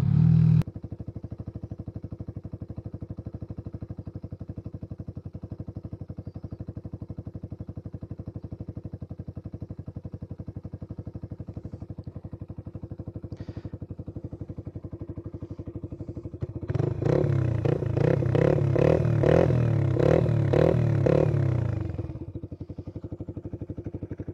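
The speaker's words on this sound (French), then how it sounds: "Elle fait un truc assez drôle quand on met un petit filet de gaz. Elle pétarade un petit peu." A Mash Black Seven 125cc motorcycle idles steadily with a low, even engine thrum, then a dab of light throttle brings a louder, rougher stretch of irregular popping and burbling before it settles back to idle, close by.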